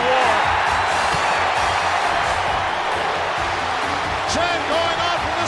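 A capacity wrestling arena crowd chants at a Royal Rumble event, a rhythmic roar that runs throughout beneath loud commentator talk.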